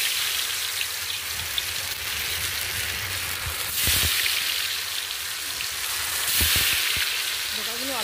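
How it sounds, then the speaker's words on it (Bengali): Dhoka lentil cakes coated in arrowroot and flour batter frying in hot oil, a steady close sizzle with occasional louder crackling pops and faint clinks. "তো সেটা দিয়ে আমি ধোকাগুলোকে একটু ভেজে নিচ্ছি।"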